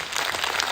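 Dense, steady clapping from an audience at a talk, an even wash of many hands with no voice on top.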